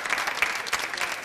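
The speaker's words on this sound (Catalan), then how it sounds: "No aplaudeixin tant, que no tenim temps" Studio audience applause on a TV talk show: a burst of dense, close clapping at steady loudness with no voices over it.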